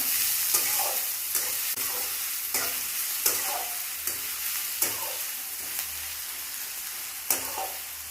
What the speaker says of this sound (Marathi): मिरची आणि कांदा घेऊन आपण चांगला हा मसाला भाजून घेऊया. कांदा लालसर भाजून घेऊया.